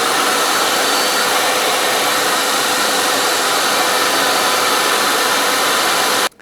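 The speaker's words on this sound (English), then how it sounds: "Right now, remove the muffler on it and see how loud it is." A Craftsman 110 CFM shop vac runs with its muffler removed, giving a loud, steady, broadband roar that holds constant until it cuts off abruptly at the end.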